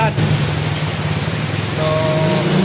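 Heavy rain pouring and water dripping from gutters during days of flooding, a steady dense wash of noise with a faint tone near the end.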